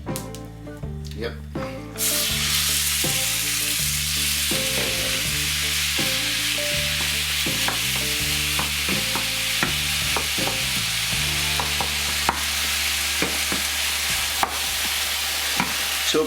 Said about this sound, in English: And this is where we're going to sizzle a lot now.